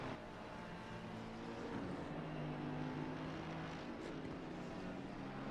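Race car engine on a dry circuit, a steady near-constant drone with harmonic bands that shift pitch as the revs rise and fall through gear changes, sounding throughout with no talk.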